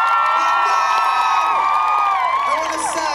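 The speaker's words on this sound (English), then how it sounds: "Give yourself a round of applause." A large outdoor concert crowd at High Park cheers, whoops and shouts continuously, with high excited voices layered over a steady roar of applause, loud and close throughout.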